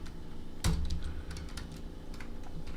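Computer keyboard typing, a quick run of light key clicks close by, with one heavier knock near the start and soft tapping continuing over a low background hum.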